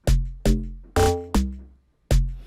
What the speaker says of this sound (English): So normally the log drum will sound like this.